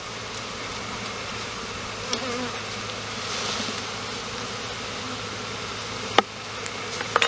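Honey bees from a package colony hum and buzz around hive frames, a steady close swarm drone with a few brief clicks and knocks from handling the frames near the end, and no one speaking.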